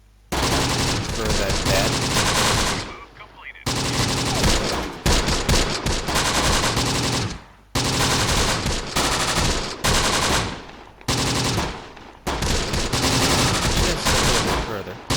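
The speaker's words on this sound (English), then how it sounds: "That's an actual heavy MG. Tripod." A heavy tripod-mounted machine gun in the Close Combat video game fires long, loud sustained bursts separated by brief pauses, with a voice speaking briefly.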